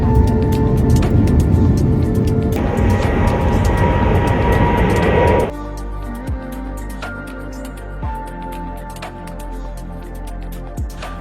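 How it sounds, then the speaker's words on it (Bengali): Loud, continuous roar of a jet airplane landing at Dhaka Shahjalal International Airport that drops suddenly partway through to a lower engine rumble, with occasional clicks and thumps. "বিমান ল্যান্ডিং হচ্ছে ল্যান্ডিং হচ্ছে ল্যান্ডিং"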